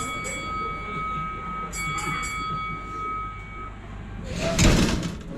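Doors on a car of the world's steepest railway slide shut near the end in a loud closing burst, after a stretch of warning tones and station ambience with people talking.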